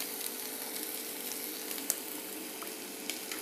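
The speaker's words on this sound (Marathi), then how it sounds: "हा मसाला आपला आता भाजत आलेला आहे." Masala sizzling steadily in hot oil over a medium flame, a turmeric addition for a Bombay duck curry, with a continuous close frying hiss and a few faint crackles and pops.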